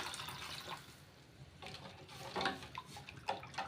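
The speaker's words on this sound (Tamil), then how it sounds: "தேவையான அளவு தண்ணி ஆட் பண்ணிக்கலாம்" Water splashes and trickles steadily as it is poured into a pan of tomato rasam, with a few louder gushes toward the end.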